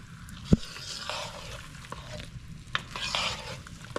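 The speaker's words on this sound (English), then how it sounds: "you put the flame very low and you stir, trying to not allow it to get clumpy" Cornmeal being stirred in a pot on a low flame gives soft scraping and gentle bubbling, with a sharp spoon knock against the pot near the start and another later, close and quiet with no talking.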